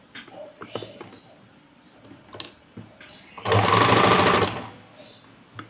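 A sewing machine stitches fabric scraps in one loud, steady burst of rapid needle clatter lasting about a second, with softer handling knocks and quieter room sounds before and after.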